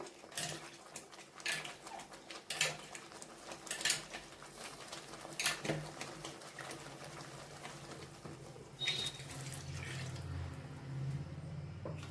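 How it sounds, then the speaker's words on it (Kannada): Water from a rinsed blender jar splashes and pours into a metal pan of palak rice amid clinking of utensils, with a steady hissing stream building toward the end. "ಇದಕ್ಕೆ ನಾವು ಜಾರ್ ತೊಳ್ಕೊಂಡು ನೀರನ್ನು ಕೂಡ ಹಾಕ್ಕೊಳ್ಳೋಣ ಅಂತ, ನೀರು ಕೂಡ ಸೇರಿಸ್ಕೊಳ್ಳೋಣ"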